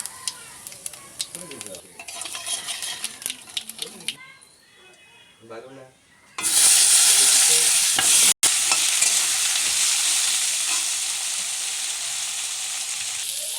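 Nigella seeds hit hot oil left from frying rui fish, setting off a sudden loud, steady sizzle after a stretch of quieter frying and stirring, with a voice heard near the start.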